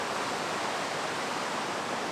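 A river rushes over rocks in a Norwegian valley, a dense, steady roar of flowing water close by with no pauses.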